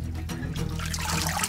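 Salad greens swished around in a sink full of water, a brief close sloshing and trickling of churned water that grows slightly busier toward the end.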